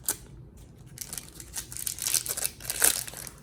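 Scissors snip and crinkle through a foil-like 2000 Topps Series 2 trading card pack wrapper, producing a few quiet crisp cuts and rustling crackles close up.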